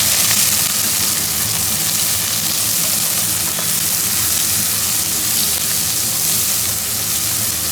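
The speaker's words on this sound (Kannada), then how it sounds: "ಈರುಳ್ಳಿ ಚೆನ್ನಾಗಿ ಗೋಲ್ಡನ್ ಬ್ರೌನ್ ಬರೋ ತನಕ ಫ್ರೈ ಮಾಡ್ಕೋಬೇಕು." Onions fry in hot oil for a naati-style pulao, giving a steady, loud, close sizzle that runs unbroken without speech.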